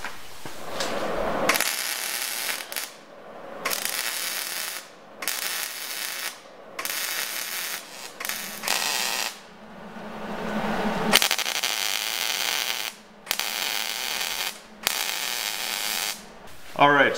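Steel grid sections for a custom sliding door being welded, with bursts of crackling, hissing arc noise starting and stopping in several runs of a few seconds each, close by, with brief pauses and some talk between.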